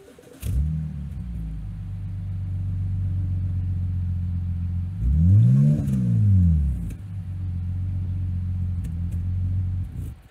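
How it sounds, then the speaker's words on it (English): Synthetic motorcycle-like rumble produced as a haptic effect in Meta Haptics Studio for Quest Pro controllers, a steady low engine drone that swells into a revving sweep midway before settling back to a constant hum. "motorcycle rumble."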